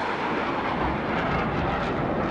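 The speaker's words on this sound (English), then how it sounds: "attempting to drop his very first live bomb, is fighter pilot Matt" An RAF fighter jet in flight during training, a dense broadband roar heard steadily and fairly loud throughout, with no talk.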